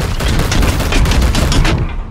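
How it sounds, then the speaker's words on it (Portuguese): Rapid bursts of gunfire in Warhammer 40,000: Chaos Gate - Daemonhunters rattle off in a dense, loud volley, tapering away at the end. "Vai tomar tiro."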